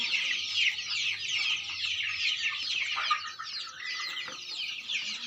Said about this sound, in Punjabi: ਪਿਓਰ ਦੇਸੀ ਚੂਚਾ